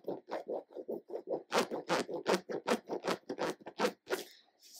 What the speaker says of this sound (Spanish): al yo hacer esto escucháis que el material es de muy buena calidad, impermeable